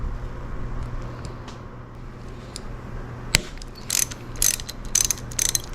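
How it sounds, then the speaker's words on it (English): A 12mm wrench breaks free the bolt through the back of the brake reservoir on a Honda Goldwing. A sharp snap cuts through a low background hum, followed by a run of light ratcheting clicks. "I'm gonna take my 12mm and I want to break this bolt free that goes through the back of the brake reservoir."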